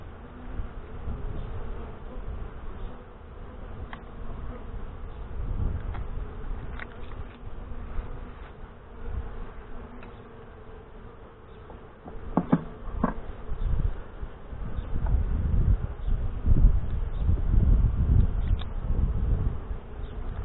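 Honey bees drone and buzz around an open hive in Northwest Wisconsin, a continuous low hum with occasional louder passes of individual bees close by, swelling somewhat toward the end while the frames are handled.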